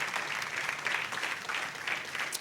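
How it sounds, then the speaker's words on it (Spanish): A church congregation gives loud, continuous applause in praise during a sermon, a dense wash of many hands clapping at once. "Fuerte aplauso al Señor, que Él se lo merece."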